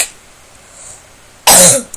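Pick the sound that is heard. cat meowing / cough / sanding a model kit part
cough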